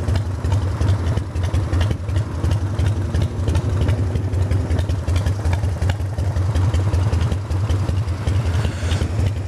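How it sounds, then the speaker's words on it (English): A vehicle engine idles steadily at a slightly raised idle speed, a low, even rumble that carries on throughout without a break. "you can tell I raised the idle up just a little bit on her because she was lugging too much"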